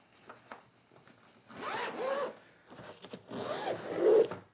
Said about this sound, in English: Let's go ahead and zip this back up